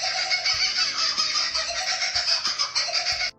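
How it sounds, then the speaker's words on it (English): An Australian kookaburra call, sped up and edited into a high, rapid chattering squeal much like a cartoon dolphin, heard alone and fairly loud for a few seconds. "It was really a sped-up, edited call of this Australian bird."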